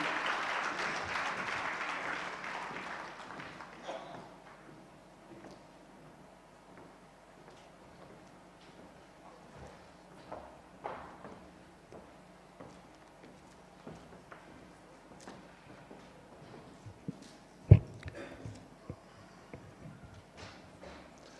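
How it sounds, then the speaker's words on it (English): Closing-ceremony crowd applauding a guest of honor in Malawi: a dense burst of clapping opens, then fades after a few seconds into a quiet room with scattered small knocks and one sharp thump. "Thank you very much for that huge round of applause"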